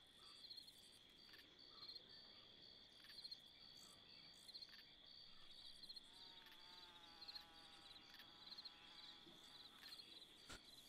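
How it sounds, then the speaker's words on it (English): A steady high-pitched insect chirring in the video game Red Dead Redemption 2 (RedM roleplay) drones on throughout, with a faint buzzing layer and occasional soft clicks, quiet and continuous. "could do without that intermittent bug buzzing"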